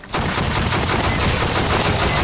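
Dense, rapid gunfire blasts in Aliens: Fireteam Elite, a loud continuous barrage that starts abruptly and keeps hammering without pause.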